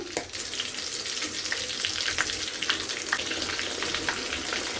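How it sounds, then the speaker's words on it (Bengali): Crispy bird nest snacks fry in hot oil with a continuous loud sizzle, dotted with sharp crackles and pops throughout, heard up close with no talking. "ভাজা হয়ে গেছে এখন আমি নামিয়ে নিব"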